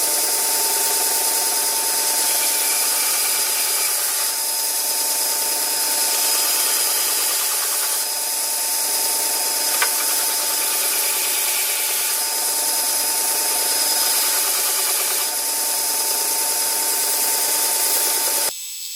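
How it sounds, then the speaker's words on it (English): A bench sander grinds steadily against a small metal key, a continuous loud whirring hum with faint rasping variations as the key is pressed and shifted, ending abruptly when the machine stops. "Over at the bench sander, we're going to try and rough this up a little bit."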